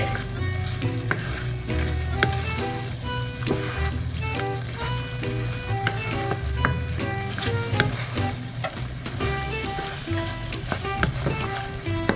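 Broccoli beef sauce bubbling and thickening in a hot pan, a continuous sizzle with stirring scrapes and small pops, close and fairly loud with music running underneath.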